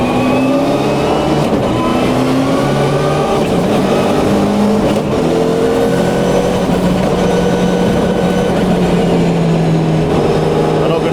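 Subaru Impreza WRC rally car driven on a public road, its engine droning loud and continuous from start to finish, pitch rising and falling through the gears.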